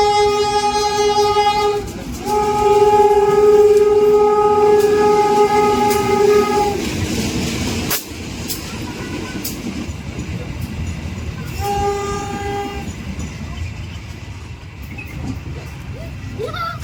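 A locomotive sounds a long, loud horn as a train passes an alley level crossing in Surabaya, Indonesia, the sustained blasts repeating, followed by the rumble and clatter of the passing rail cars.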